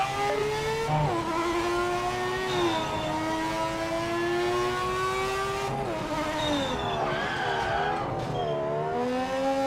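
A GT race car in a PC racing game revs and shifts, the engine note climbing and dropping through gears in a continuous loud drone, with a brief tire squeal.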